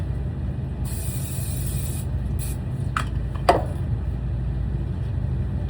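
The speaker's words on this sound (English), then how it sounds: "I give them another additional spray usually" Cooking oil spray hisses over lemon blackberry scones in a brief close burst, followed by a couple of faint rubbing and tapping sounds against a steady low hum.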